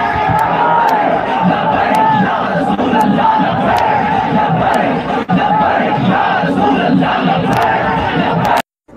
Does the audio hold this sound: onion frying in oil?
no